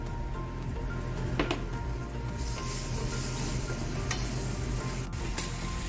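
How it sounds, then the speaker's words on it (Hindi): Onions, broccoli and spices frying in a pan as they are stirred, a dense steady sizzle with occasional scraping clicks, close and continuous with no voices. "देखो प्याज भूनकर तैयार हो गए हैं, रेड हो गए हैं। इसमें हम मसाले डाल देंगे"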